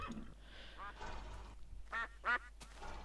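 A duck in the Minecraft video game gives two loud, close quacks near the middle, heard between bits of a man's quiet speech.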